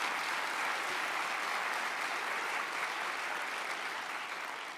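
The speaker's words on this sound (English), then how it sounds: "let's give a round of applause for them as well" A full, steady round of applause from an audience at an outdoor baccalaureate ceremony, honoring the board of directors: dense, even clapping from many hands that holds throughout and tapers slightly at the end.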